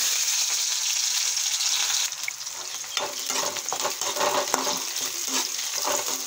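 Chopped onion hits hot oil with cumin seeds for a potato and eggplant curry, a steady close sizzle that swells noticeably louder about two seconds in and keeps crackling with no voices.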